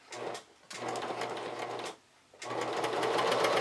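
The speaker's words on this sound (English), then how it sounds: "So I'm stitching along that crease line of the bias tape." Sewing machine stitching along the crease line of bias tape for a camisole, running in three steady bursts with two short pauses between, close and alone with no talk.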